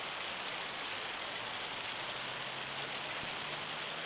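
Rain in the farming game Farming Simulator 25 falls as a steady, dense hiss with no breaks or voices over it.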